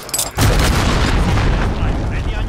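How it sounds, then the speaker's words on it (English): A cruise missile explosion in the Call of Duty Modern Warfare video game: a short crackle, then a loud sustained boom with heavy low rumble that fills the rest of the moment. "Enemy cruise missile."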